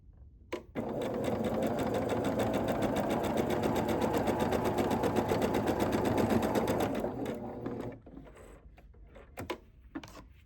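A sewing machine stitches through a thick quilt block, running steadily and loudly for about seven seconds before stopping, followed by a few faint handling clicks.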